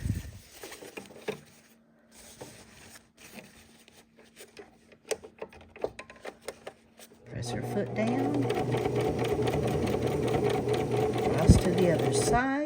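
A sewing machine stitches a purse seam, its steady motor whir starting partway through and running continuously to the end, close and fairly loud after a quieter stretch of small handling sounds.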